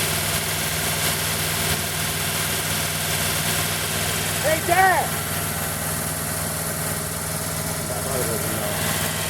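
A 1940 Buick straight-eight engine idles steadily after its first start in 30 years, a constant low rumble beneath a voice calling out briefly.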